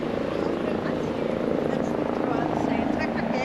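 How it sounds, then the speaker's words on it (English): A steady helicopter rotor drone rumbles continuously, loud and even, filling the whole stretch without pause, above the Thames embankment in London. "forgive the noise, there is a helicopter above us"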